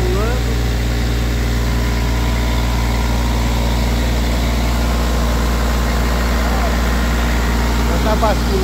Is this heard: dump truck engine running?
yes